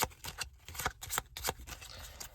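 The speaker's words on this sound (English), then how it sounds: "you'll take the 4 double-sided challenge cards, give them a shuffle, flipping some as you go." A set of four double-sided challenge cards from the card deckbuilder At the Helm being shuffled and flipped, a rapid run of close papery riffs and slaps in quick bursts, with no talking.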